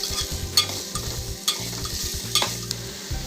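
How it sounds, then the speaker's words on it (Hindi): Chicken pieces with ginger-garlic paste frying in a pan, stirred vigorously, with a close, loud sizzle and repeated knocks and scrapes of the spatula against the pan. No voices are heard. "चिकन को अच्छे से पका लेंगे हम"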